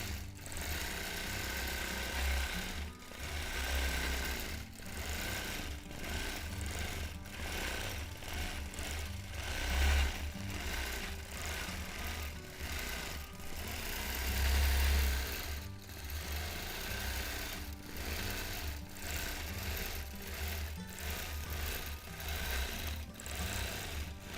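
Domestic sewing machine running steadily for free motion quilting of a palm leaves design on fabric, a fast continuous needle rattle with brief pauses and speed changes, close and loud throughout, with no talking.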